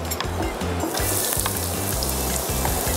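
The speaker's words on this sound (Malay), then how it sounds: "So, kita akan stir fry rencah kita. Okay. Iaitu bawang putih dengan bawang Holland." Garlic and onions stir-fry in hot olive oil, crackling and sizzling steadily at close range while a utensil knocks rhythmically against the pan every half second or so.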